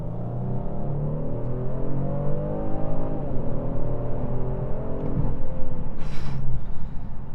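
A 2019 Genesis G70 3.3t with all-wheel drive accelerates hard from inside the cabin, its engine note climbing through the gears in a steady, loud rising drone with a brief shift break near the end.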